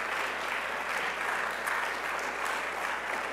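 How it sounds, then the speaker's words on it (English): Brief, steady applause from a seated audience at a church talk event, many hands clapping together at an even, moderately loud level. "Guys, let's give Brian a round of applause, if you would."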